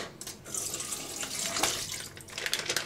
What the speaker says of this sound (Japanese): まずはしらたきを洗います。